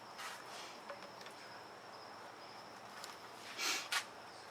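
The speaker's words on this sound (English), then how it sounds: "Yep, the crickets are out." Crickets chirping outdoors after sundown, a faint, steady high trill running throughout, with a couple of brief louder rustling noises near the end and no voices.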